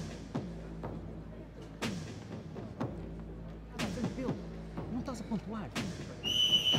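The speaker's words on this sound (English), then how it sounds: "Heard the seconds out whistle." At a full-contact karate match, dull thuds and impacts sound over a faint arena background, and the referee's shrill seconds-out whistle is blown briefly at the very end.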